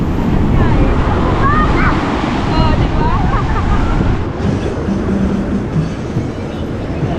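Strong ocean surf at Baler, Aurora, in the Philippines roars steadily and loudly throughout, with wind buffeting the microphone and people talking and laughing over it.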